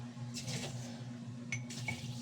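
Water runs from a faucet while food is prepared for an outing, in a couple of soft, short bursts of splashing over a constant low hum, faint and close.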